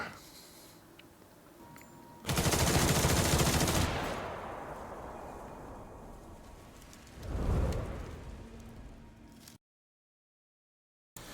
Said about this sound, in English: All units, ready your arms! Fire!